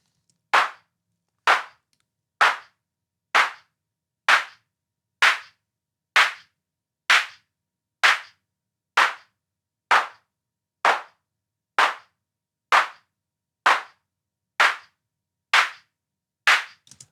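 Synthesized clap sound built for sound design, about sixteen sharp claps repeated at a steady, even rhythm, each crisp and short, with silence between them.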